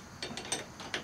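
A half-inch ratchet clicks through several quick, close strokes while loosening the clutch on a 2000 Harley-Davidson Electra Glide, each burst a short metallic pawl rattle over a quiet workshop background.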